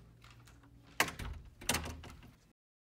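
A door is pushed shut indoors with two sharp thumps about a second apart, each followed by a brief rattle before quiet.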